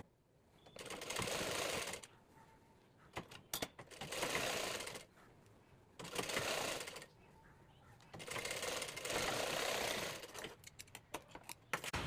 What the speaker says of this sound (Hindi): यहाँ पर देखें दोस्तों बैठाते हुए सिलाई देते जाएंगे